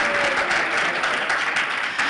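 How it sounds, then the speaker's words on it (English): Audience applause for a troupe of dancers at a climate action event, dense sustained clapping from a crowd, loud and close, lasting about two seconds. "One more round of applause, please."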